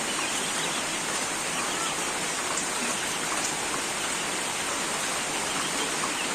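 Steady, dense rain falls in a village, a continuous even hiss with no breaks, close and fairly loud, with no voices.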